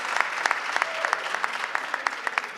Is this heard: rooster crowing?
no